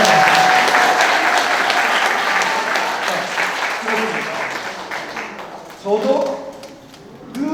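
A lecture audience at a foundation launch event applauds loudly in a thick wash of clapping that gradually thins and fades, with a voice talking over the tail end.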